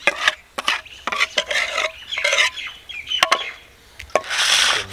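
Thin batter is stirred and mixed over pieces of silver fish with a utensil in a bowl, giving irregular wet scraping and tapping strokes close up, with short pauses between bursts.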